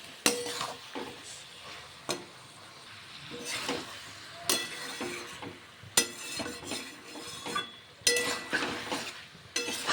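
Fried cauliflower florets stirred through spice masala in a pan, with a spatula scraping and clinking against the metal in bursts over a steady close sizzle, no voices.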